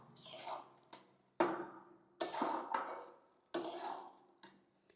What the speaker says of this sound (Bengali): এটাকে আমি এইভাবে নাড়ব।